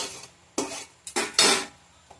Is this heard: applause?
no